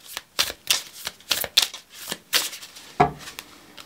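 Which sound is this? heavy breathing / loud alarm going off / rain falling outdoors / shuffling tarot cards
shuffling tarot cards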